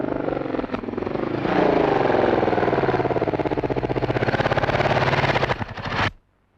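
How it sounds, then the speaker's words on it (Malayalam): A motorcycle engine runs loud and close, a rapid pulsing putter that builds, holds steady for several seconds, then cuts off abruptly into silence. "ഒരു മോട്ടോർ സൈക്കിളിന്റെ ശബ്ദം."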